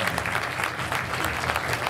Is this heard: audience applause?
yes